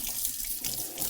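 Water running from a kitchen tap as something is rinsed under it, a steady close hiss and splash for about a second, fairly quiet, with no voices.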